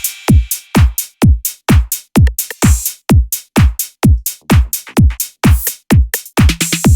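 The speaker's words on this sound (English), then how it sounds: "I've got a basic drum groove on the go that sounds a bit like this." A basic hip-hop drum groove built from a few top loops and an 808 kit in Ableton. Punchy kicks and snappy hits land in a steady, loud, looping rhythm with crisp hats on top, and no talking.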